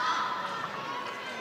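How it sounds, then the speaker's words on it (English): A large arena crowd at a table tennis World Championship semi-final cheers and roars continuously, with distant clapping mixed in. "Must be quite strange with all this loud noise and cheers and clapping"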